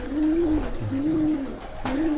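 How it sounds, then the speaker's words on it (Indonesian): A Landbreed Sapulintang racing pigeon coos three times in close, loud, rolling phrases at an even rhythm, with no talking. "Nih untuk merpatinya gagah banget ya"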